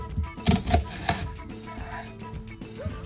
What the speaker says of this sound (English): Cut your onion up.